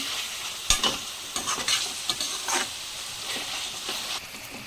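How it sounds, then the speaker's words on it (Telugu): Soy chunks, or meal maker, stirred and fried with ginger paste in a pan make a close, steady sizzle broken by sharp spoon scrapes and clinks against the pan. "ఇక మీల్ మేకర్ వేసుకొని మంచిగా మిక్స్ చేసుకున్నాము అన్నీ కలిసేటట్టు"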